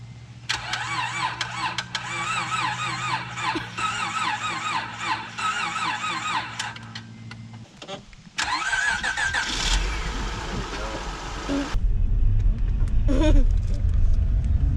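Car engine starting after a dead battery is boosted: a cranking starter whine, the engine catching into a rumbling idle, then a louder revving rumble near the end, with brief talk.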